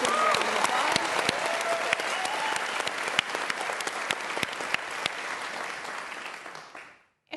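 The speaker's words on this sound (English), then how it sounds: "Let's give them a round of applause." Loud, sustained applause from an audience at a hip hop art and culture event, dense clapping with some sharper individual claps and a faint voice underneath, tapering off and cutting out near the end.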